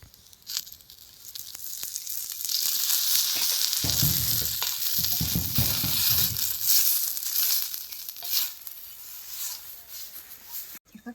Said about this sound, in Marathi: आता आपल्याला थोडं तेल टाकून परतून घ्यायचे असे परतून घ्यायचे फक्त दाबून